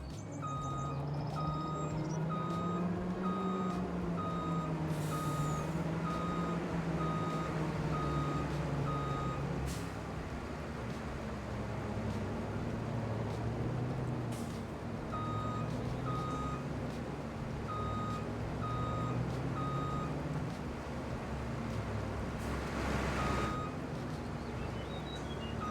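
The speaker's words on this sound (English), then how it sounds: "now we've got to move this truck into its new position" A truck in Farming Simulator 25 backs up with steady, evenly spaced reversing beeps over a loud, rumbling engine, the beeps pausing midway and then resuming, with occasional air-brake hisses.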